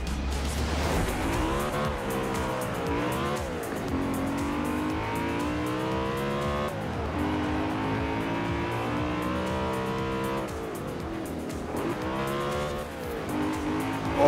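Racing car engine in the Forza Horizon 4 video game, loud and continuous, revving up and down through gear changes with rising and falling pitch sweeps and some tire squeal.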